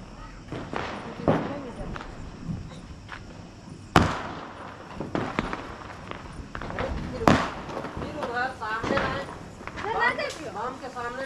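Firecrackers bursting at a family Diwali celebration: several sharp, loud bangs ring out near and far over about eleven seconds, with scattered crackling between them and people talking throughout.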